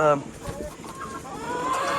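Backyard chickens cluck around a wooden coop on a small farm, a steady close chorus of short clucks with outdoor background noise and no clear talk.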